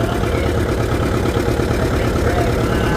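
An antique John Deere tractor pulls a weighted sled at a county fair tractor pull, its engine a steady, loud, chugging rumble throughout while a voice talks over it.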